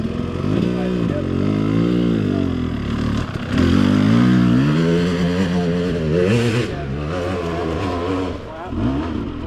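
Dirt bike engines rev and bog while riders pick their way through the woods, the throttle rising and falling in uneven bursts, loud and close, with riders talking over the engine noise.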